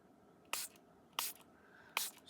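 Spray bottle misting coffee dye ink onto paper, three sharp hissing bursts spaced roughly evenly, each brief and crisp against near silence.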